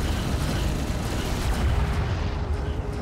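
Heavy gunfire and explosions rumble in the Homeworld: Deserts of Kharak strategy game, a dense, continuous barrage of low booms and bursts with no gaps between them.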